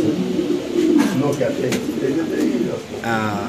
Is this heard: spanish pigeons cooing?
yes